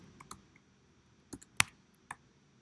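A computer keyboard being typed on: a few sparse, separate key clicks with pauses between them, close and fairly quiet, with no talking.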